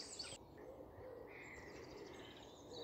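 A robin sings from the top of a tree at least 100 feet high, heard as faint, distant thin whistled phrases over a soft outdoor background hiss.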